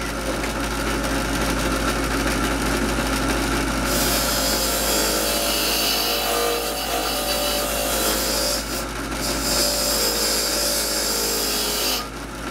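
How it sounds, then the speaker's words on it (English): A drill press on its highest speed whirs steadily with a soft wire brush scrubbing a part from a Honda NS 250 motorcycle restoration, a loud continuous abrasive hiss rising and falling throughout. "I got the drill press on the highest speed, a soft, clean wire brush"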